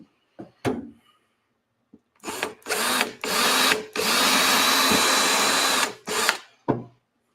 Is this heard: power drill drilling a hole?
yes